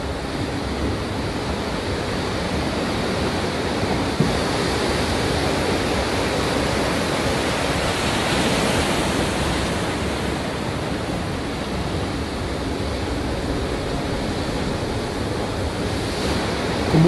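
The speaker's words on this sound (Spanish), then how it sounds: "Aquí vemos a una gigantesca ola impactando contra un puente." A giant ocean wave crashes against a bridge, heard as a loud, sustained roar of surf and rushing water with wind buffeting the microphone, continuous throughout with no talking.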